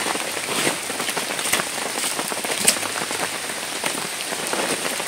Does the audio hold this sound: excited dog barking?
no